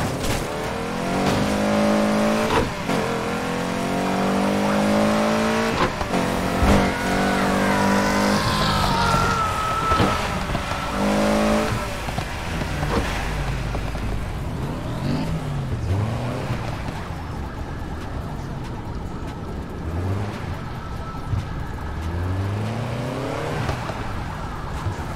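Car engine driving and revving in the racing video game Need for Speed Heat, a steady loud roar with rising and falling revs and gear shifts, with occasional tire noise, continuous and close throughout.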